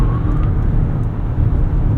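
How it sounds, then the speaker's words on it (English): A 2.5-liter engine in a 2025 Mazda CX-90 plug-in hybrid starts up while driving in sport mode through a corner, a loud steady low drone with road noise heard from inside the cabin. "Engine's kicking on."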